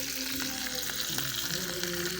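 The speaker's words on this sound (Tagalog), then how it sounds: "nagprito ako ng tuyo mga kabiday pang umagahan" Dried salted fish (tuyo) fries in hot oil for breakfast, making a close, continuous crackling sizzle with small pops and faint stirring, with no talking.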